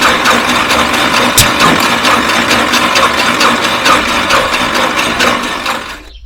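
A small engine cranked over in an attempt to start it, giving a loud, close, steady mechanical whirring churn with ratchet-like clatter that runs throughout and fades at the end.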